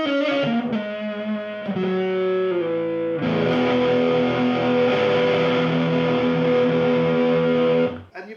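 Heavily distorted electric guitar from a Harley Benton SC 450 through an HB-20R amp at full gain with reverb off: a few picked chords, then one long loud sustained chord ringing until it is cut off.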